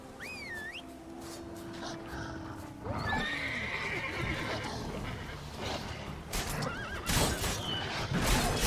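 Roach, a horse in The Witcher 3, whinnies and gallops with clip-clop hoofbeats; a neigh sounds near the start, then rhythmic hooves continue, with game effects and a faint voice around them.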